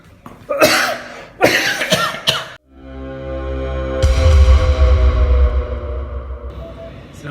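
Several close, loud coughs from a patient with a month-long cough come in quick bursts during the first few seconds, then give way to a sustained tonal sound that fills the rest of the clip.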